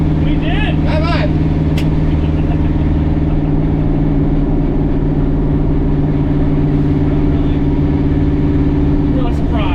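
A turbocharged LS V8 in a T56 manual-swapped Chevrolet Silverado idles loud and close with a steady, droning rumble, while people talk and laugh briefly over it.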